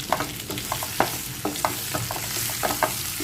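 A spoonful of chili powder fries in a pan with oil, a steady low sizzle broken by repeated sharp scrapes and taps of a spoon stirring close up, with no voices.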